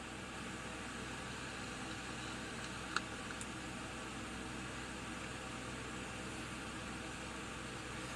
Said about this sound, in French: c'est possible que c'est le souffle du ventilo que vous entendiez